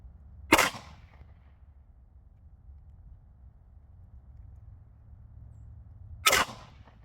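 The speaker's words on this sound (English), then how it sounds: "I think I want to shoot that target over there" Two sharp, loud gunshots fired at a target outdoors, spaced about six seconds apart, each a sudden crack followed by a brief decay over quiet background.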